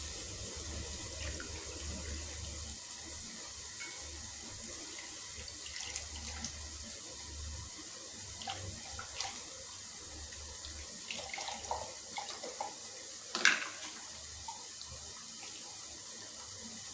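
Water pours steadily into a pot while cauliflower curry is made, a soft continuous trickle and splash that runs throughout with a few small clinks.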